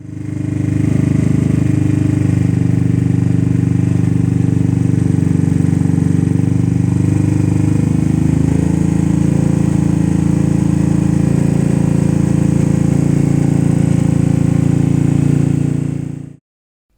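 A loud modified motorcycle engine with a glowing red-hot exhaust runs steadily and close by, with a low, throaty rumble that holds throughout before cutting off abruptly at the end.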